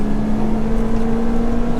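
A big-turbo Ford Fiesta ST pulls hard in second gear, its engine droning loud and steady throughout with a continuous low exhaust tone and no break or shift.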